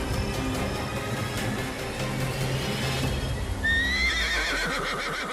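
Royal horses neigh and whinny over a dense bed of other sounds, with hoof clip-clop mixed in; near the end a brighter, higher whinny rises and holds for about a second.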